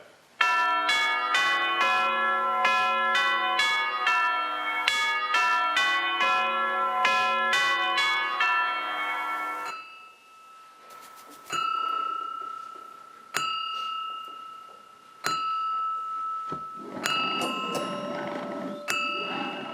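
Clock bell chimes striking midnight in a community theatre staging of A Christmas Carol, a rapid ringing melody followed by slow, evenly spaced resonant strokes that decay between hits, loud and clear.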